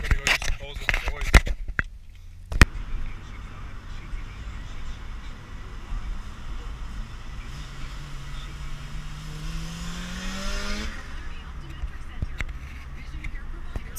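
Turbocharged right-hand-drive Honda cars, including a turbo B16 EG6 Civic, doing acceleration pulls: a steady engine drone with one rising whine sweeping upward midway, under wind and road rumble, with a few sharp knocks near the start.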